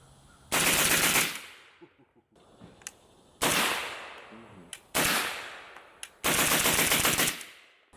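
IWI Galil Ace rifle with a 13-inch barrel, chambered in 5.45, firing in four close, loud bursts and shots, each with a sharp crack and a decaying echo, from roughly ten feet away.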